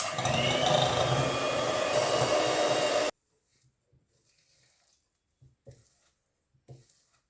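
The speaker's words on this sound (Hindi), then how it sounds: "इलेक्ट्रिकल बीटर से मैं इसको तब तक बीट करूंगी जब तक ये फ्लॉपी नहीं हो जाता" An electric beater whirs loudly and steadily while beating butter and sugar for eggless chocolate chip cookies, then cuts off abruptly, leaving near silence with a few faint clinks and soft knocks.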